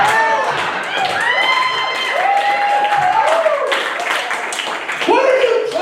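A comedy club audience claps and cheers loudly for the whole stretch, with whoops and shouted voices rising over dense, continuous applause.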